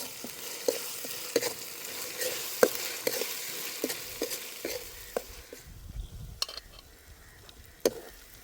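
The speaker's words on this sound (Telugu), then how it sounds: "అల్లం పేస్ట్ పచ్చివాసన పోయేంత వరకు ఇలాగా నూనెలోనే ఉడకబెడతాను" Ginger paste fries in oil in a pan, making a soft, steady sizzle broken by scattered clinks and scrapes from stirring, close up and with no one talking.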